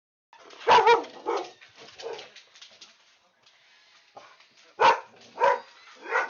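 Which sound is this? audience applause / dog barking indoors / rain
dog barking indoors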